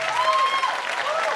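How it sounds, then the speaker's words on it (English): Audience applauding and cheering for Shashi Tharoor at an interview event, a dense steady roar of clapping with a few whistle-like tones riding over it throughout. "I think he deserves a bigger round of applause."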